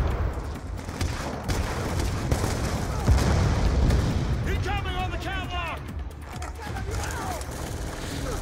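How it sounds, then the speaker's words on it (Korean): Bombs rain down and explode amid gunfire in Call of Duty: Black Ops 2, a dense barrage of booms and shots with a voice talking over the chaos. "폭탄 막 날라와."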